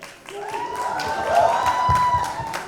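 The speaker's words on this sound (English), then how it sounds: "Big hand once again for these wonderful actors who've made Hira Mandi" Audience applause for the Heeramandi cast at a panel interaction, a steady wash of clapping with some cheering and a sustained tonal line riding over it, loud and continuous throughout.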